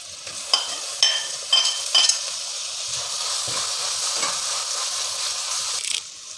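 Garlic and green chilies sauté in coconut oil with curry leaves for a Kerala mackerel curry, a steady close sizzle carrying a few sharp spatula scrapes and taps early on, no talk.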